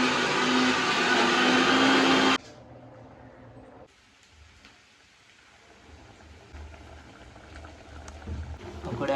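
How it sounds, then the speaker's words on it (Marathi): Mixer grinder whirring loudly as it grinds roasted masala with soaked chillies, a dense steady roar for about two seconds that cuts off abruptly, leaving quiet kitchen background. "तर आपण मिक्सरला लावूयात आता."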